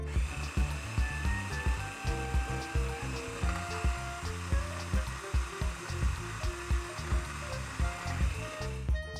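A blender churns nuts with added cocoa for homemade Nutella, giving a continuous loud motor whir with a regular pulsing thump as the thick mixture turns over, and no voices.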